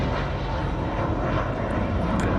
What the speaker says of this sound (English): I was looking for Stitch and I completely missed that plane